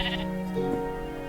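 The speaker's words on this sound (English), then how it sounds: "Okay, it's just sheep." A sheep in Minecraft gives a short bleat over a steady low game background hum, brief and fairly clear.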